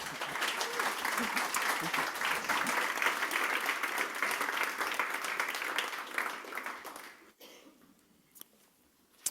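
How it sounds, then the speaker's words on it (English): An audience at a talk on building a human-centered culture claps in welcome for a speaker: full, sustained applause for around seven seconds, then tapering quickly into near silence. "give him a big applause and a warm welcome"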